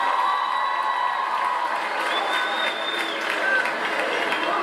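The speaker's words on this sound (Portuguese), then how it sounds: "Uma salva de palmas para todos vocês," Festival concert crowd at a show cheering, whooping and clapping, a loud continuous roar of many voices and applause.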